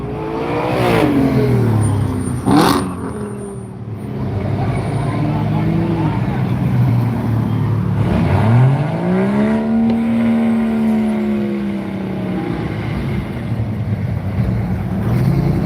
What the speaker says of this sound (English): Well, it's hard to do with the diesel to get those tires going.